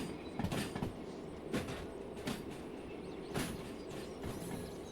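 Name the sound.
train wagons rolling on rails, from the video game Derail Valley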